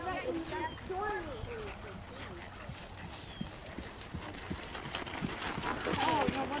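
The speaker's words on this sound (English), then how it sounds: "random horses are neighing at her" Horses whinny at the start and again near the end, with hooves clopping and shuffling between the calls, while people talk over them.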